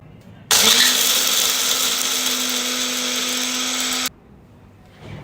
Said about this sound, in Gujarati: હવે એને મિક્સી જારમાં લઈ લઈશું અને હવે એને આપણે ક્રશ કરી લઈશું એનો પાવડર તૈયાર કરી લઈશું